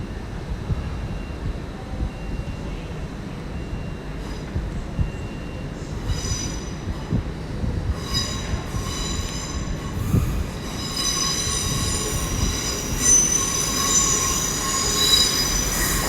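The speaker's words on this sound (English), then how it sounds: "We have another train coming in." A passenger train pulls into London Paddington station on the Great Western Main Line, with loud squealing wheels and a rising rumble of rolling stock that grows closer and fills the platform.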